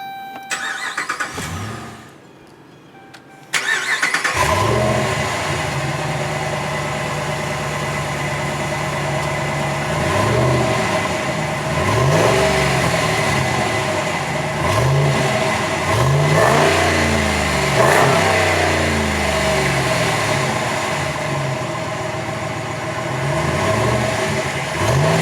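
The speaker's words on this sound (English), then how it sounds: "all you need to do is just insert your key into the ignition, if I can do that with my left hand, and twist to start." A 2012 Ram 1500 Lone Star Edition 4x4 with the Hemi V8 cranks briefly and fires up, then settles into a deep idle broken by a series of repeated throttle revs that rise and fall over about twenty seconds.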